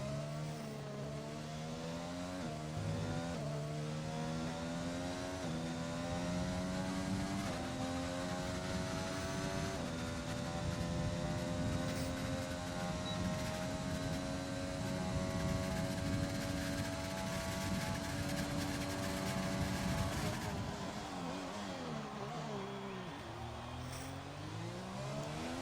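A race car engine in a racing video game drones at high revs through a lap, pitch climbing through gears in long sustained pulls, then dropping and rising again near the end, loud and steady with no talk.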